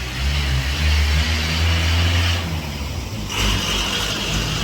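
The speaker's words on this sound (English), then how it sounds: "Hear the traffic." Street traffic near a town in Matagalpa on a rainy day, cars and trucks passing with a continuous engine rumble that swells and eases as vehicles go by, fairly close and loud with no voices.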